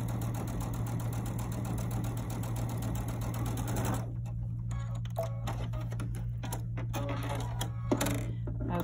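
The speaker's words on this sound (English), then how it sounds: "I'm gonna sew two together, the other two together, and then sewing those together, as opposed to continually sewing" A sewing machine stitches quilt pieces together, running at a fast, even rhythmic whir for about four seconds. It then slows to sparse, uneven clicks and taps over a constant low motor hum.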